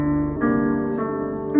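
Piano run through Guitar Rig clean and cave effects, in an FL Studio remake of a song: a few held chords that shift slowly, smooth and steady at moderate level, with no voices.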